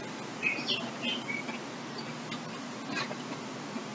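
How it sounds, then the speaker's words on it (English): Birds chirp outside a house on an ordinary day, a few short tweets and calls scattered over steady background noise, moderately distant and fairly faint, with no talking. "Hear the birds?"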